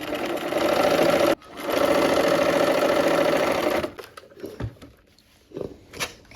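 A sewing machine stitches quilt patches together into a four-patch block, running loudly in a fast, even whir, pausing briefly, then running again before stopping into quieter fabric handling and clicks.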